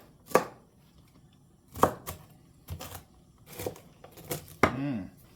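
A knife chops food on a cutting board while making Romanian cabbage rolls, with about six sharp, uneven chops spaced a second or so apart, close and clear.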